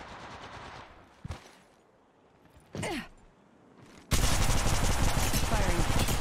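Gunfire in Apex Legends: a couple of isolated shots and a short burst, then sustained rapid automatic fire that stays loud to the end.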